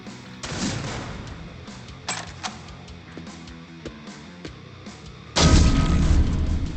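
Gunfire from the video game Jupiter Hell, shot into a cloud of smoke: loud blasts at the start, in the middle and near the end, with smaller sharp cracks and a low rumble between them.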